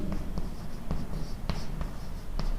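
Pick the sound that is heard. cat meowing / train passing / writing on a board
writing on a board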